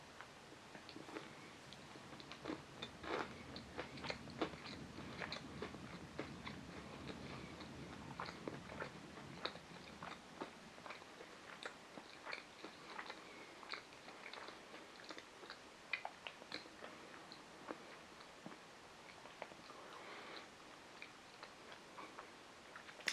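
Soft, close chewing of a piece of La Torinese iced panettone topped with almonds, a run of quiet crunchy bites and ticking mouth clicks that are densest early and thin out toward the end.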